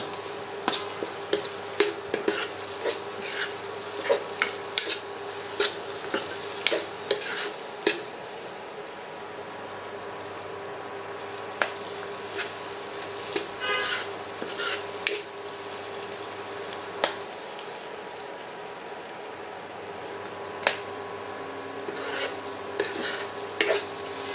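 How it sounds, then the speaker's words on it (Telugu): Tomatoes fry for gongura pulao while a spoon scrapes and stirs the pan, soft steady sizzling broken by frequent clinks and scrapes, fairly quiet and without talk. "టమాటా ఫ్రై అవుతూ ఉంటుంది కదా"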